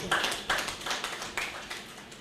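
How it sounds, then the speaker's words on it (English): Lecture audience giving a round of applause: a few soft, uneven bursts of clapping at moderate distance, fading slightly toward the end. "Another round of applause."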